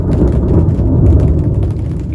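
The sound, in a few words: thunder rolling at night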